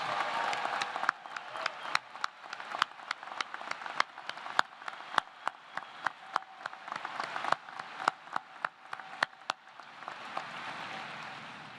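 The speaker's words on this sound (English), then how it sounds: "How about we give them a round of applause for what they have accomplished?" Audience applause for a standing graduating class at a university commencement, steady broad clapping from a large crowd that carries on for about twelve seconds with sharp individual claps standing out.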